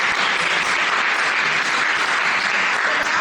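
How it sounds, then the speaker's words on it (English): Dense, steady audience applause fills a keynote hall at a UN climate event, continuous clapping throughout with no talk. "can we just, give him a round of applause for everything?"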